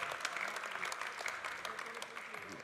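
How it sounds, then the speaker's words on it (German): Audience applause at the Swiss Coffee Festival, steady dense clapping from a crowd lasting the full few seconds at moderate level, with some voices mixed in. "großen Applaus für Coffee Coaching Club"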